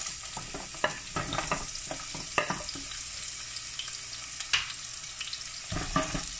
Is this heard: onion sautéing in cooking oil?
yes